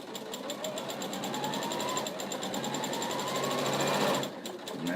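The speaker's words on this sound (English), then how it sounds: "So I'm just stitching all the way down." A sewing machine with a walking foot stitches a seam on a fabric scrubs bag, a quick, even run of mechanical clatter heard up close that slows and stops near the end.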